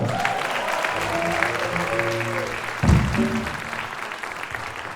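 Audience applause closes a tune by a college jazz ensemble, a dense crowd clapping under the fading held tones of the band, swelling briefly near the end before thinning out.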